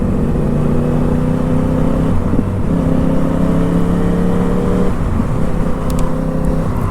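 A Yamaha R1 sport motorcycle on the road gives a steady, humming engine drone with a brief dip and change midway, fairly loud and close, with no voices.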